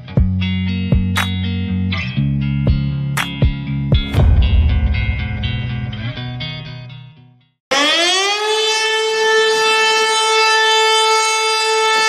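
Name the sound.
civil defense siren test for exceptional tides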